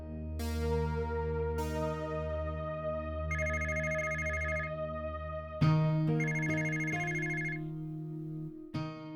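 A phone's ringback tone while a call is placed in a television drama, with repeated melodic chime rings sounding in a steady pattern over a sustained tonal background, no talk.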